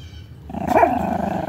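A dog gets mad near some bones, giving a close, rough growl that swells into a short loud bark and then a sustained grumbling snarl.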